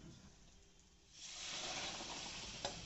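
Spice masala for chana masala being stir-fried in a pan, a soft steady sizzle that swells louder halfway through as the mixture is worked, with a brief clink of the spoon near the end.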